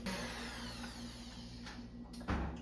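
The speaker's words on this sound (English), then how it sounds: "Now we are going to cream the sugars and the butter together." An electric mixer creams sugar and butter together for sourdough cookie dough, a steady whirring motor hum throughout with a brief louder bump near the end.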